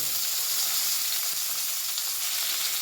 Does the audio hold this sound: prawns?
yes